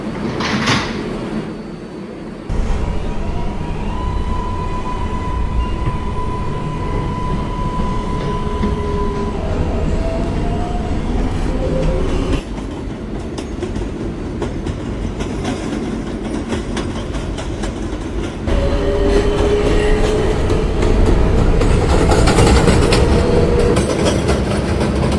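An R142A subway train on the 4 express line, running via the Eastern Parkway express, rumbles steadily with rail clatter and rising and falling motor whine. A door-like shift happens near the start, and the noise grows louder toward the end, with no talk.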